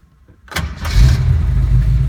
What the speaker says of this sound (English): you can see it fires right up, no issues